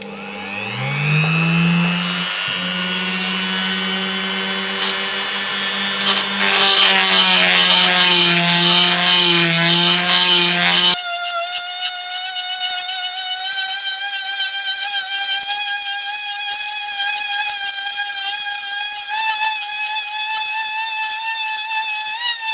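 A carbide burr grinds into a port of a Piaggio moped engine, a loud continuous high whine that shifts pitch as the tool loads and frees up, then settles into a sustained shrill tone.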